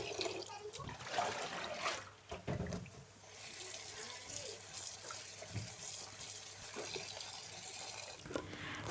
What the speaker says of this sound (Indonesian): setelah kentangnya kita potong-potong, kita cuci bersih lagi ya